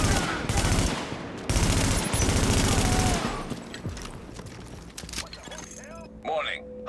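Gunfire in The Division video game: dense sustained automatic bursts, loud and close, for the first few seconds, then tapering to scattered shots under game sounds and a voice.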